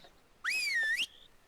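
A hunter character whistles in the video game theHunter: Call of the Wild, a single clear rising-and-falling whistle lasting about half a second, fairly quiet against a near-silent background.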